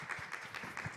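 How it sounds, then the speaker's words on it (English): An audience gives a round of applause to welcome the speakers at a hybrid workshop session, with quick, rhythmic, fairly soft clapping throughout. "Let's welcome Professor Rhee and the session's discussant, Dr. Yoon Jae-dong, on the floor with a big round of applause"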